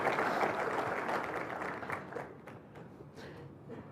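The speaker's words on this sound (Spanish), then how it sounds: "el padre Alfredo Sáenz, para quien pido un aplauso fuerte." An audience applauds a speaker at a lecture, giving steady, dense clapping that starts full and gradually thins and fades over a few seconds, with no talking.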